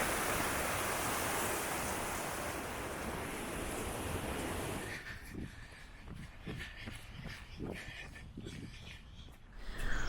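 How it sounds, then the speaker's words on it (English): A little stream runs beside a campground path, its steady, close rushing water filling the first half before dropping to a quieter, sparser trickle with faint scattered sounds. "the final path back to the campground involves crossing the little stream that runs"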